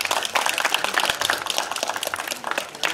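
An audience at an outdoor cultural festival at a royal tomb site gives warm applause for a pansori singer, a dense, even wash of many hands clapping throughout.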